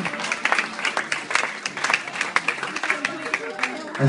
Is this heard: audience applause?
yes